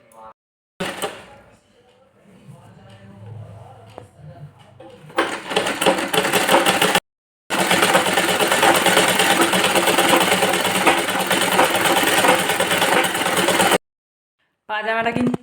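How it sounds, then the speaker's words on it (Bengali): A sewing machine runs a double stitch along a blanket-made pajama, steady and close with a loud continuous mechanical whirr, broken by brief stops, after a quieter start with faint handling. "তো চলো ফটাফট করে সেলাইটা করে নিই।"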